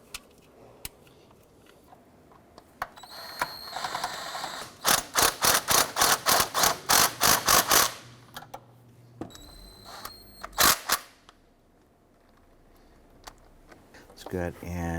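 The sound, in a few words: ratchet tightening bolts on a Honda Pilot engine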